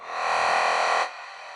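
A breathy, whispery vocal sample from a minimal drum and bass track plays loud and sustained for about a second, then cuts off abruptly, leaving a quieter tail.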